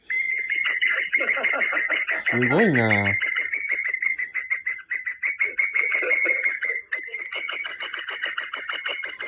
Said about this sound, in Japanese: 相変わらず大変なインコだね。